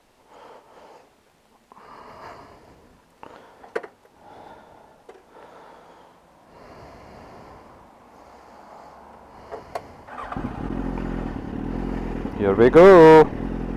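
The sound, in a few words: scooter passing by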